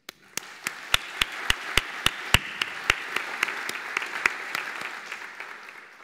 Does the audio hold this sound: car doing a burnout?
no